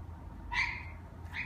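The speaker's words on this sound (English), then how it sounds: "Oh, it's a puppy. It's not a bird, it's a puppy." Two short, high whimpering yelps from a small puppy, the first longer and the second briefer, over a low steady outdoor rumble.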